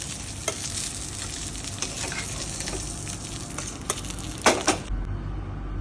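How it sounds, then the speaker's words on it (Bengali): Fish heads fry in hot oil, a steady close sizzle with scattered crackles and a few sharp spatters near the end, when the noise drops away abruptly. "আমার মাছগুলো ভাজা হয়ে গেছে, মাছের মাথাগুলো তুলে দিচ্ছি"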